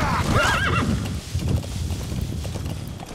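A horse whinnies loudly with a wavering cry in a video game, followed by the clip-clop of hooves and scattered footsteps, close and clear.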